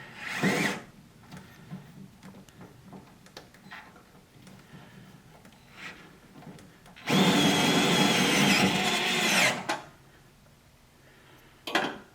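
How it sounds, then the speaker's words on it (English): A cordless DeWalt screw gun driving self-tapping screws into a 1969 Camaro while installing a fuel regulator: one sustained loud whirring run of a few seconds, with shorter bursts and light tool clatter around it. "we're going to have to screw gun them in here"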